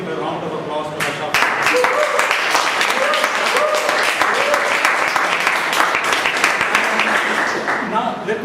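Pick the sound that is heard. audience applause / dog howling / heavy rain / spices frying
audience applause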